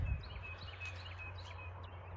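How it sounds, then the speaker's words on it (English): Birds chirping outdoors, faint repeated high chirps and tweets at a distance over a low steady hum, with a brief bump at the start. "Probably birds."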